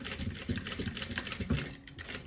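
Sewing machine back stitching through mesh fabric, a steady rapid mechanical chatter of the needle with brief pulses as the stitch direction reverses, close and clear with no talk.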